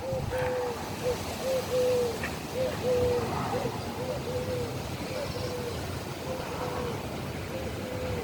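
A bird calls outdoors among fir trees in a steady series of short, soft, cooing notes, repeated evenly over low background hum and distant traffic.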